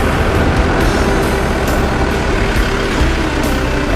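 MPM bus on a Hino RK8 chassis with Laksana bodywork rumbling at a terminal, its heavy diesel idling loud and steady close by, with faint clicks and clatter in the background and no talk.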